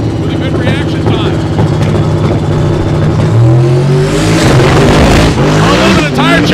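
A drag racing car launches down the strip at Great Lakes Dragaway during Sick Summer 2023, a loud, sustained engine roar that climbs sharply in pitch partway through, with tire chatter and a voice running over it.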